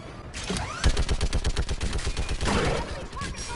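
A mounted gun in Mass Effect hammers out a steady, loud stream of rapid shots, evenly spaced and driving, with a heavier swell of battle noise near the end.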